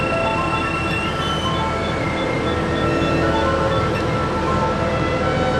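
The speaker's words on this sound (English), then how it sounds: "Push spindle on button. Increase spindle RPM. Decrease spindle RPM." A CNC machining center spindle runs steadily with a whining hum whose pitch shifts as the RPM changes, with no speech.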